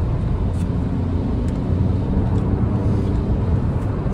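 A Peugeot 208 1.2 PureTech 110 accelerates while driving, heard as a steady, dense rumble of engine and road noise from inside the car, continuous and even throughout.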